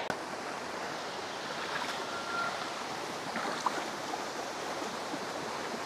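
Ilog Pinggo, a cold, clear, knee-deep river under a bridge in Bailen, Cavite, flows in a steady broadband wash of rushing water, fairly close and continuous, with no talk over it.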